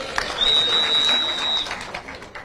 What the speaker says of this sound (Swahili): Makofi kwao basi.